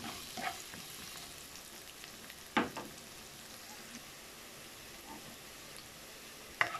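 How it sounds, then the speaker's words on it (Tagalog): Onion and garlic fry in a pan for spicy corned beef, a faint, steady sizzle with occasional louder scrapes and clinks of stirring, and no talking. "Hintayin lang natin na maluto ang sibuyas."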